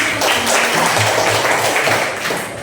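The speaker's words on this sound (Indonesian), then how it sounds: "Tepuk tangan lagi." A classroom of students claps together during a sociology lesson, a close, busy patter of hands with occasional thumps and a faint voice underneath, tapering off near the end.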